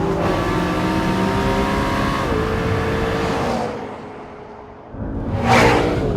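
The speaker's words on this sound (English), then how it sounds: "The McLarent stops really well and wanders just a little bit in the process." A 2017 McLaren 650S supercar braking hard: a loud, steady engine drone falls away as the car slows, drops to a brief near-quiet, then ends in a short rising whoosh.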